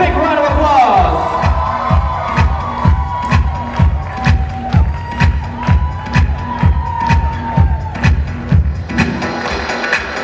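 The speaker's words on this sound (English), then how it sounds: "please give them a big round of applause" Guests at a wedding reception cheer and shout loudly for the newlyweds over a steady thumping beat, with crowd voices throughout.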